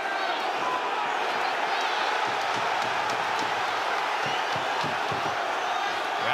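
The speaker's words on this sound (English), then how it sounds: "Kambosos gets the crowd on their feet here in Melbourne, Australia." An arena crowd roars and cheers at a boxing bout between Devin Haney and George Kambosos Jr. in Melbourne, Australia, a dense, sustained wall of distant crowd noise with a voice talking over it.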